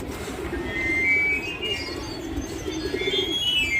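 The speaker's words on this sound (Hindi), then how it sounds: "ये कबूतर आया अचानक से बैठ गया, ये देखो।" A pigeon coos in low, rolling murmurs close by, while faint chirps and whistles from other birds sound in the background.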